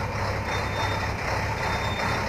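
Trucks moving through busy city streets in Itajaí, with a dense, steady roar of engines and traffic and a thin high beep running throughout.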